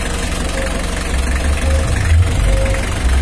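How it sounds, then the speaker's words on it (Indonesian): A Mitsubishi L300 engine idles steadily with its radiator fan running, a continuous low drone with a faint knock, close and even throughout. "Ini masih posisi idle, gas idle, bukan gas besar."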